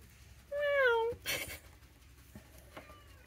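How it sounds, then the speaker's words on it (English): A single clear, rising then falling cat meow sounds close by, followed by faint rustling and small knocks in a quiet room. "I didn't even see a cat. I hear it, but I don't see it."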